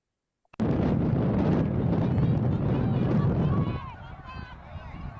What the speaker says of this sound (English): it's very windy, but now you'll be able to hear that